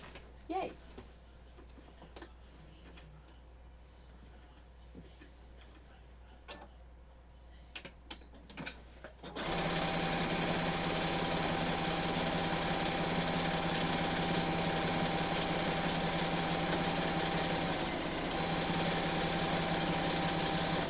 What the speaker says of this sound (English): I am sewing in the ditch in the area between the binding and the quilt itself.